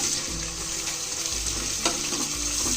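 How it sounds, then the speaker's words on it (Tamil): Thinly sliced onions fry in oil with bay leaf and cloves for a mushroom dum biryani, giving a steady close sizzle with occasional stirring scrapes and no voices. "வெங்காயம் வந்து நல்லா ஒரு ப்ரௌன் கலர்ல ஆகணும். அது வரைக்கும் நல்லா ஃப்ரை பண்ணணும்."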